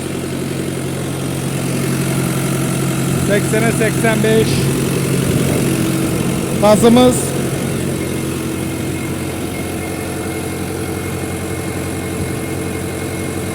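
A tractor-driven 75 kVA generator runs steadily in the background, a continuous low engine drone with a brief louder surge midway, while people talk over it.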